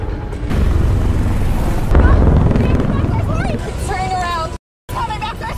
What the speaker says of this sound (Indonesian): tiba-tiba muncul sebuah helikopter militer yang melintas di atasnya.